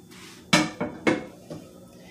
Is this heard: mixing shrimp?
yes